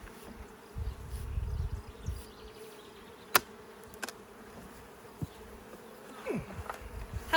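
Honeybees buzz in a dense, continuous drone around beehives on a pollination farm, with occasional sharp clicks and knocks close by.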